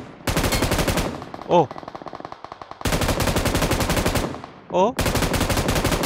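M249 machine gun fire in PUBG Mobile, loud rapid full-auto bursts in three long strings with short pauses, while a man makes brief exclamations between them.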